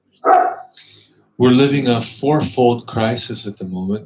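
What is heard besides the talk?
dog barking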